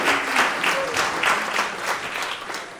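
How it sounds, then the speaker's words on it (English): A comedy-club audience claps in a brisk, fairly close burst of applause that holds steady throughout, with a faint voice briefly underneath. "Give him my applause."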